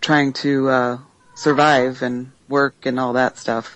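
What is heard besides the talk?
cat meowing in the background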